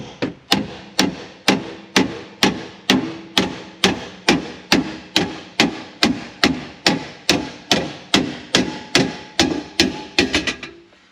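A mechanic's tool repeatedly strikes a seat in a VW T25 van to knock it loose, about two dozen loud, evenly spaced metallic blows that quicken into a short flurry at the end.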